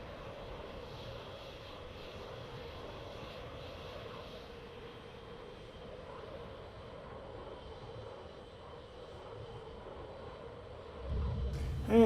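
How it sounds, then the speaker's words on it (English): Light aircraft engine droning steadily from inside the cockpit on a landing approach with the throttle pulled back, a constant low hum with a faint thump near the end. "Let's drop the throttle back more and"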